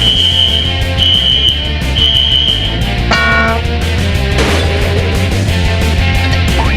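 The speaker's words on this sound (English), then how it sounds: "that's my carbon monoxide detector, but don't worry, I don't smell anything" In the video game You Don't Know Jack 2015 on Nintendo Switch, a carbon monoxide detector alarm sounds in repeated shrill beeps over loud game music and effects.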